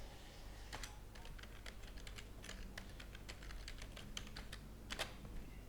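Password being typed on a computer keyboard: a quiet, close run of rapid key clicks in irregular bursts over faint background hiss, with no talking.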